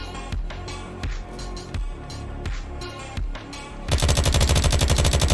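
Rapid SMG gunfire from the video game Unturned: several short bursts of shots in the first four seconds, then a sustained, loud automatic stream of fire to the end, with no talking.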